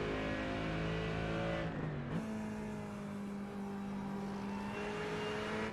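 Ferrari GT3 race car engine at Watkins Glen in iRacing, a loud sustained drone that drops briefly as it shifts down, then climbs and holds steady, with no talk.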